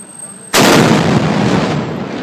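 A cannon fires with a sudden huge explosion after a quiet half-second, a loud close blast that rolls into a long rumbling decay.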